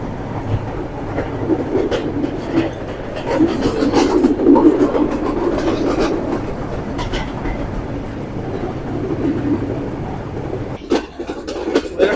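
The Rupsha passenger train runs on the rails near Parbatipur railway junction, giving a steady, loud rumble with rhythmic wheel clatter throughout and a brief shift in tone near the end.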